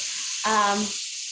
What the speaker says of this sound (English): You can probably hear it, but a bunch of steam is coming out.